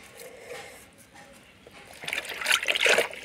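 Water trickles and splashes over kamli greens as the leafy vegetable is rinsed, starting faint and swelling into louder close splashing near the end.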